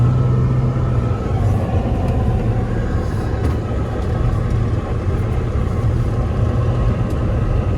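A lifted pickup truck drives slowly, its engine a steady low rumble with road noise that stays even and close throughout, with no voices over it.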